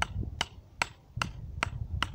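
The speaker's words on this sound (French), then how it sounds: "Alors, au marteau, je vais les taper." A hammer drives stakes into soft, wet ground for a homemade tunnel greenhouse, giving six evenly spaced, sharp taps about 0.4 seconds apart, close and fairly loud over a low outdoor rumble.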